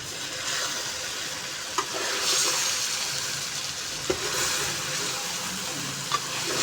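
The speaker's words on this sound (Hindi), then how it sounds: "सारा हमारा जो मटेरियल है वो अच्छे तरीके से फ्राई हो रहा है" Chicken and potato masala with turmeric sizzles steadily in a pan, a continuous frying hiss broken by occasional scraping clicks from stirring.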